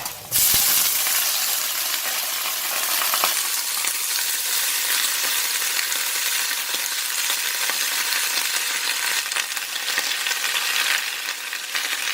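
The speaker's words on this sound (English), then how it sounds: "And then I'm going to put in the cabbage." Cabbage drops into a hot pan with browned garlic and fries in a loud, continuous hissing sizzle after a sharp burst at the start, with occasional tossing sounds.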